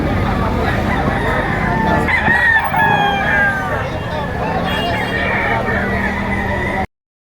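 Roosters crowing amid a crowded chicken market, with several drawn-out crows rising over a dense background of clucking birds and chatter, moderately close, before the sound cuts off abruptly.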